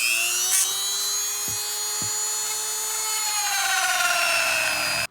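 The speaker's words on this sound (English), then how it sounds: "We're using a little sanding wheel here, and we're just gonna go ahead and widen these divots out a little bit more" A small sanding wheel on a rotary tool grinds out divots in a motorcycle handlebar for a bar conversion on a Husqvarna Vitpilen 401, a steady high-pitched whine held close and loud throughout, pitch sagging slightly near the end.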